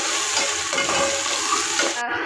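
Ingredients for chicken salan dry-roast in a pan with a steady close crackling sizzle and gentle stirring scrapes, ending abruptly in a brighter clatter.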